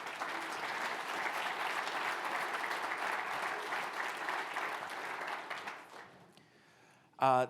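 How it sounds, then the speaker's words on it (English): Audience applause greets volunteers coming up onto a keynote stage, steady clapping that fades out near the end before a short, loud burst of a voice. "Would you give these humans some applause as they come up here on stage?"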